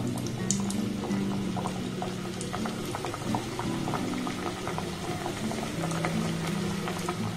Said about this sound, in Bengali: এবার এই গরম তেলের মধ্যে এগুলোকে আমি ছেড়ে দেব।